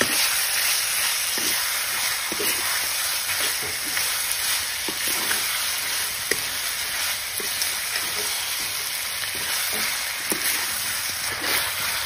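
Spices frying in a hot pan for a duck and ash gourd curry, stirred steadily, giving a continuous dense sizzle with soft scraping strokes throughout, loud and close with no talking.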